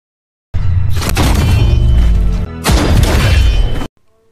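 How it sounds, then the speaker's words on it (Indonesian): Loud, dense bursts of blasting and crashing impacts from the film Seobok fill the clip continuously, with a brief dip midway, like heavy automatic gunfire in an action scene. "Ojong dan kawan-kawan masih hidup dan mereka memberondong tembakan ke arah Sobok."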